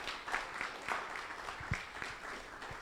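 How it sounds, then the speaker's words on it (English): Audience applause for panelists at a KPMG post-budget analysis event, steady scattered clapping from a crowd, fairly faint and distant, continuing evenly throughout. "let's give a round of applause to our panelists."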